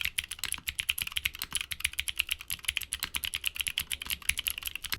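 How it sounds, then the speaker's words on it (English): Rapid, continuous clicky keystrokes on a mechanical keyboard, crisp and close, with an even, busy typing rhythm and no voices. "They produce a distinct crunchy sound when typing."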